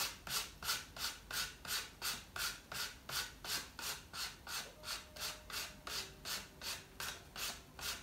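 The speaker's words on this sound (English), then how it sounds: "And sand it off on a piece of paper," Steady back-and-forth rasping of sandpaper, rhythmic strokes about two per second, close and continuous with no voices.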